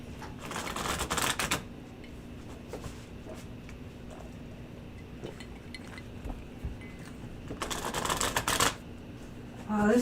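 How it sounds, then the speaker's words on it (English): A tarot card deck riffled and shuffled in two loud, dense bursts near the start and again near the end, with quieter card handling and soft taps between them. "this is a nice sized deck for my hands to shuffle"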